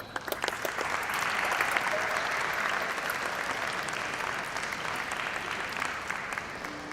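Sustained audience applause fills a high school commencement ceremony, a steady dense wash of many hands clapping at even loudness throughout, without pause or speech.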